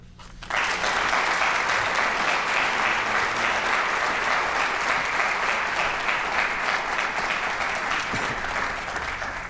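A lecture audience breaks into sustained, even applause to welcome Senator Isakson and congratulate him on his reelection, the clapping starting abruptly and holding steady throughout.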